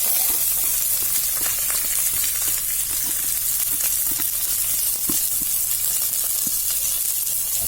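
Onions sizzle and fry in smoking-hot oil for a vegetable dal, a steady loud crackling hiss with scattered pops throughout, no talking.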